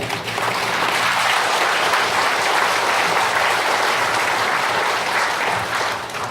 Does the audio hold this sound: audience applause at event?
yes